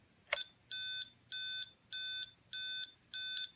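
Shutdown signal from a 1/5 scale Redcat Rampage MT gas monster truck's kill switch: a click, then five evenly spaced, loud electronic beeps in a steady rhythm, each about a third of a second long, against quiet background.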